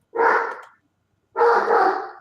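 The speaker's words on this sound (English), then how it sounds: "Angry dog." An angry dog gives two loud, harsh barks or snarling growls, each lasting about half a second and separated by a short pause, with no talking.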